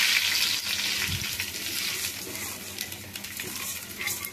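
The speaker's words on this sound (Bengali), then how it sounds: "দিয়ে কিছুক্ষণ ভেজে নিব চালটা।" Soaked polao rice fries in a pan with a continuous close sizzle, punctuated by light scraping and clinks as the grains are stirred.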